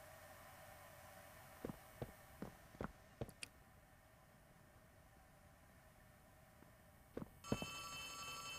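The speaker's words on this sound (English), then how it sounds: "Okay, there's a phone ringing." Phone ringing inside Poppy Playtime Chapter 3, sharp faint bell chirps in two bursts, a quick series then a short pair, over a low hum with a brighter tone entering at the end.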